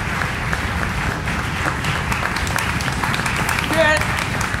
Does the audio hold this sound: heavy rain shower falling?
no